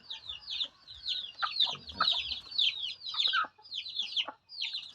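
Rhode Island Red hens cluck in a steady stream of short, close, overlapping calls, with scattered scratching and rustling beneath, and no talking.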